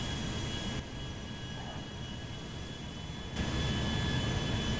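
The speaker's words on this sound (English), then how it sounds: "the sound of the jet is incredibly loud" Steady roar of a Boeing 757 jet engine in GTA 5, a loud continuous broadband rush that drops briefly then surges louder near the end, with no voices.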